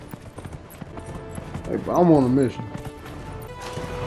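Horse hooves clip-clop in Dragon Age Inquisition, a steady rhythmic trot under someone talking, with a short voiced horse-like snort or call rising briefly in the middle.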